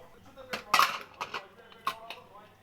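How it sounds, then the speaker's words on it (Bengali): Pressure cooker lid being opened after cooking mutton curry, a quick series of close metallic clanks and knocks, one sharp bright clatter early on, then lighter taps. "এবার ঢাকনাটা খুলবো"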